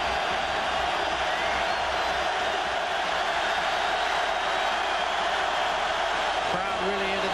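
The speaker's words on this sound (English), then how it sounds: "Crowd really into this." Steady roar of a large stadium crowd at a college football game, Arizona State hosting top-ranked Nebraska in 1996, filling the whole clip as a dense, continuous wash with no individual voices standing out.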